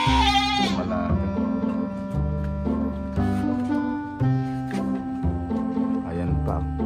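Goats and sheep bleating nearby at a goat sale in Cabanatuan, several overlapping calls with a steady, buzzy tone, heard under a voice speaking continuously.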